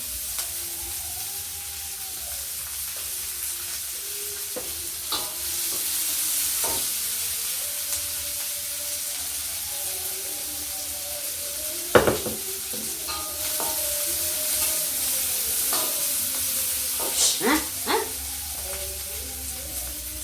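Anchovies (oseng teri) stir-frying in a pan with little oil give off a steady sizzle, and a spatula scrapes and clanks against the metal now and then, sharpest around the middle and near the end.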